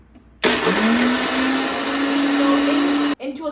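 A blender crushes cookies for a cheesecake with a loud, steady whir lasting nearly three seconds, starting and stopping abruptly; its pitch rises slightly as it spins up.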